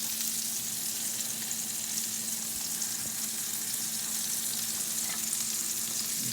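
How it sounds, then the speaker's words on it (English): Salisbury steak gravy sizzling in a pan, a steady, fairly faint frying hiss running evenly throughout with a couple of soft scrapes, no voices. "Give it a little stir here."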